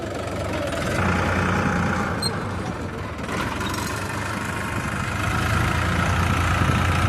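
A tractor engine runs steadily at close range, a loud continuous rumble that holds constant throughout with no breaks.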